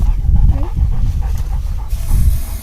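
Close, loud panting from a dog outdoors, with quick rhythmic breaths and some breathy hiss, alone without talk.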